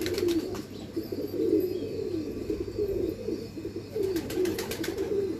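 Several pigeons of a prized fancy breed coo in repeated low, rolling phrases, fairly close and steady, with faint chirps above and no talking.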